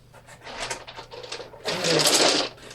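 Special picture dice clatter and rattle as they are handled and rolled, a close burst of sharp plastic clicking that grows denser and louder toward the end, with no speech.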